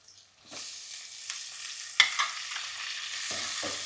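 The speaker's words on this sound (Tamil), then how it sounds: "பாருங்கள், வெங்காயம் ஓரளவுக்கு நல்லா வதக்கிட்டோம்." Onions sauté in a pan for tomato chutney, sizzling softly while a spoon scrapes and stirs them in a few distinct strokes, close up with no voices.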